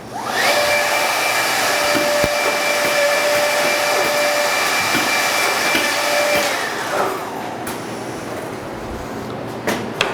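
A door jamb machine running its burn-the-chip-out routine gives a steady loud whirring drone with a high tonal whine for about seven seconds, then the pitch drops and it winds down, with a few clunks near the end.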